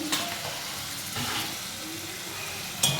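A spiced chicken biryani masala being sautéed and stirred in a pan without oil, giving a soft steady sizzle with occasional scraping, close and moderately quiet.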